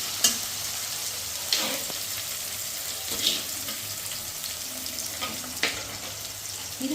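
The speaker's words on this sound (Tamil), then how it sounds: "முதல் வெங்காயம் நல்லா வதங்கட்டும்." Onions frying in a pan for a fish curry, a soft continuous sizzle with a few light spatula taps and stirs, fairly quiet and close.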